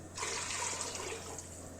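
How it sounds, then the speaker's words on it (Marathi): Measured water pours into a pot of hot oil on a gas stove, a sudden rushing, hissing splash that starts sharply and continues steadily, close by. "तेल चांगलं गरम झालं की यामध्ये आपण मोजून घेतलेलं पाणी टाकून द्यायचं"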